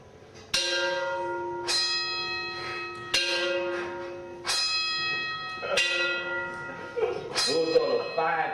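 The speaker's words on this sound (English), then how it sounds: "Those are the 5 a.m. plantation bells calling black folks to work the sugarcane field." Large plantation bells ring at 5 a.m., six loud resonant strikes spaced about a second and a half apart, each leaving a long ringing decay, with no talk over them.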